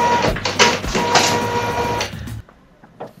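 An Epson T50 inkjet printer runs with a mechanical whirring and clattering of its print head for about two seconds, close and fairly loud, then stops, leaving near-silence with a faint click near the end.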